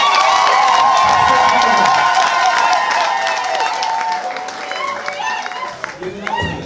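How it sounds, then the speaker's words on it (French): A ceremony audience honoring a police officer breaks into loud applause and cheering, a dense roar of clapping with shouts that gradually thins out over several seconds. "On applaudit très fort, mesdames et messieurs."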